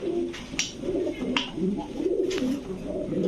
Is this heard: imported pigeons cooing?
yes